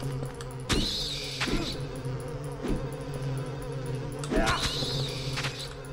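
Flies buzz on a wall in the Silent Hill 4 horror game, a low droning hum with intermittent sharper buzzing swells over a steady background.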